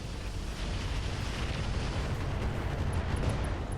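A mech weapon fires at a Scorpion vehicle in the BattleTech game RogueTech, a dense, continuous roaring blast that fills the whole stretch at steady loudness, with faint high pings near the end.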